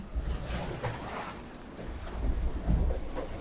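Wind and rough beam-on waves buffet a small sailboat at sea, with continuous blustery rumble and wash surging louder and softer throughout.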